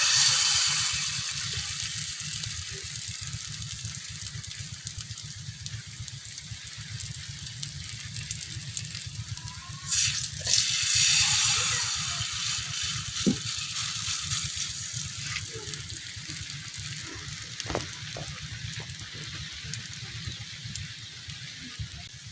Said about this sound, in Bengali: এখন যে বাকি বড়াগুলো আছে, এগুলাও আমি বাজ্যা নেই